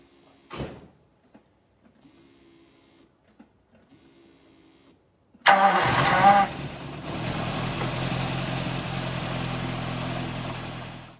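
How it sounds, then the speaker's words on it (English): A VW Mk1 engine cranks briefly after a few clicks and near silence, then fires with a loud burst and settles into a steady, even idle inside an open garage. "and then I'll start the car"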